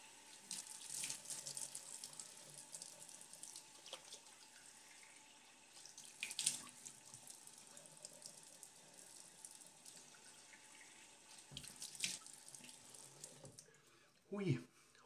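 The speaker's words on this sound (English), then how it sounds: "Let me just rinse off with some nice cold, ice cold water." Cold tap water runs steadily into a sink as someone rinses off after shaving, a continuous hiss with small splashes and a brief louder gush near the end, faint and close.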